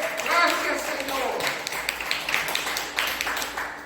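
Church congregation clapping during a Spanish-language worship service, a steady run of hand claps lasting a few seconds with voices mixed in underneath.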